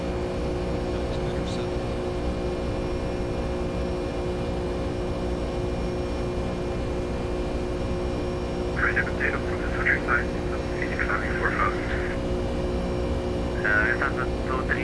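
Inside a Condor Boeing 757-200 airliner climbing out of Frankfurt, a constant loud engine drone with steady humming tones fills the cabin. Short muffled voice bursts sit faintly over it near the end.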